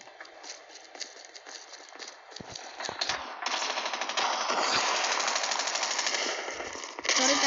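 Rapid automatic gunfire from the Call of Duty video game rattles in dense bursts, growing louder and more continuous toward the end, with game sounds behind it.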